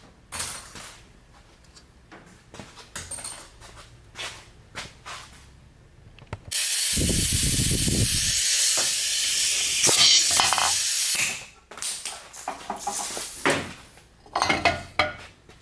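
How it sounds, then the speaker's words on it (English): Compressed air blasts from an air hose into a Chevrolet TH350 automatic transmission: a loud, steady hiss running about four seconds, with clinks of parts and handling before and after. "Now we need to get our air hose next."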